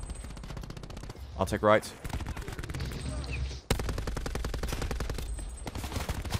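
Rapid automatic gunfire from Call of Duty Black Ops 4 in a Hardpoint match, close and continuous, with a short lull where a player speaks briefly over the game sounds.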